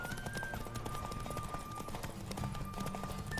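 A horse gallops in The Witcher 3, a steady, close drumming of hoofbeats throughout with a faint continuous tone above.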